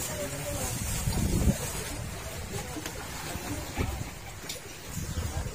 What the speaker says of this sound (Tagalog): Parang may mga dala itong mga tunog sa kanilang makina.